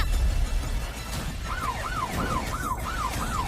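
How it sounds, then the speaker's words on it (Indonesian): A police car siren wails in a steady repeating up-and-down cycle, moderately loud against a dense background rumble, with no talking. "Itu suara sirine polisi."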